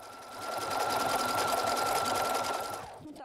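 A sewing machine stitches the neckline of a knitted fabric garment, running in one steady, close, whirring burst that ramps up, holds a constant pace and then stops.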